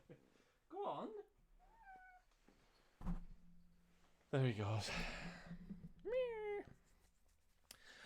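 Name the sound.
cat meowing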